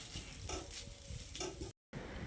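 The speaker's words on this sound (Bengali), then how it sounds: "এবার এই নারকেল কোড়াটা দিয়ে আবারও ভালো করে নেড়ে চেড়ে মিশিয়ে নিতে হবে।" Grated coconut being stirred and fried in a pan for a vegetarian eggplant curry, with steady sizzling and scraping stir strokes close up, broken by a brief silent cut near the end.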